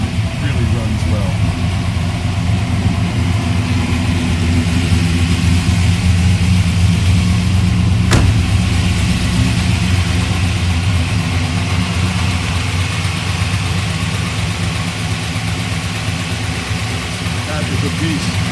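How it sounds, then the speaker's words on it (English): A restored 1972 Chevrolet Chevelle SS with a 383 stroker V8 idles steadily with a low, even rumble for the whole stretch, close and continuous, with one brief click partway through. "Nice sounding engine. Really runs well."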